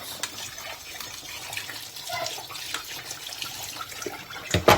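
A soup ingredient is washed and strained under running water, a steady close rush of tap flow with wet sloshing, and a short clatter as it finishes.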